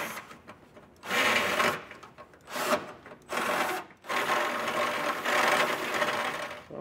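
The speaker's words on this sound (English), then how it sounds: "I'm just gonna use this bit, clear a little bit of material out" A power tool bit grinds and clears metal material from the frame of a 2023 Ford Bronco Sport during a trailer hitch install, running in several loud bursts separated by brief pauses.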